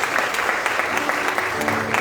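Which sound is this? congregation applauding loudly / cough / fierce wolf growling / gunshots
congregation applauding loudly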